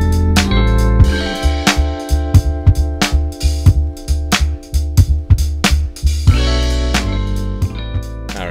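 A neo-soul chord progression on keys with a laid-back drum groove of punchy kicks and snappy hits under warm sustained chords and bass, loud and close, with no talking.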